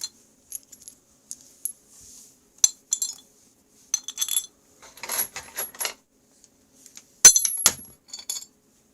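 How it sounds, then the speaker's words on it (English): Metal bolts clinking and rattling during fitting of Polaris XLT snowmobile cylinder heads: scattered sharp metallic clinks and jingles in irregular bursts, with a louder cluster of clicks near the end and quiet gaps between. "Got bolts flying everywhere."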